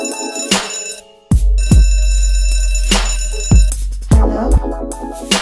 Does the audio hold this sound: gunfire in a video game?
no